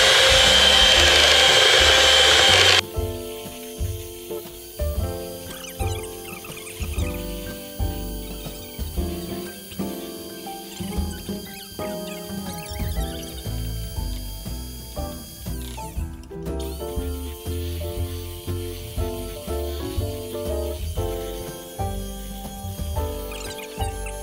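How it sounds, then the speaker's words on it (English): Mixer with a whisk attachment whipping a tiramisu egg mixture: a loud, steady motor whir for about three seconds, followed by a quieter, rhythmic mechanical clicking pattern. "I'm gonna use a whisk attachment and incorporate some air into our egg mixture."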